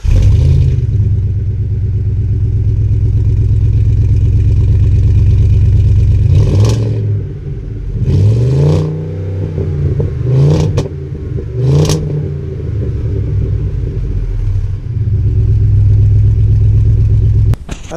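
A 2020 Ford Super Duty with a 7.3L engine and an MBRP aftermarket exhaust idles with a deep, loud rumble, then gives several short throttle blips that rise and fall before it settles back to idle.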